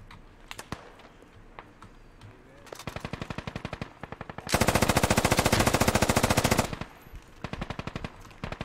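An M240 machine gun in the video game Squad fires sustained automatic bursts, first short bursts and then a long continuous stream, loud and close, with scattered distant shots and some quiet voices around it.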